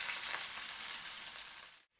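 Shallots sizzling hard over high heat in a frying pan, a loud, steady crackle that runs unbroken before cutting off abruptly near the end.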